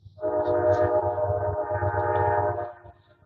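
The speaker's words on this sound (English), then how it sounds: "I live next to a train track." A train going past on a nearby track, its horn sounding one long steady blast over a low rumble for nearly three seconds before cutting off.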